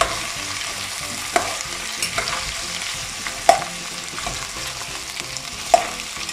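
Onions and small spring onions sauté in a pan with a constant close sizzle, steady stirring scrapes and three or four sharper clacks of a utensil against the pan.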